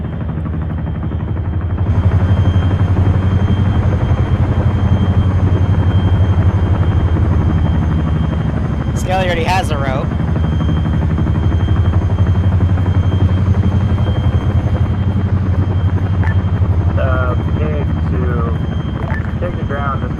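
Helicopter rotor and engine drone in the Arma 3 combat game, a loud steady thrum throughout after a quieter first two seconds, with radio-style voices talking over it.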